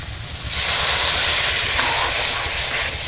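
Water poured into a hot pan of spice-fried stem vegetables for a Bengali chachchari, a loud, broad, steady steam hiss that swells quickly and holds, close with no speech.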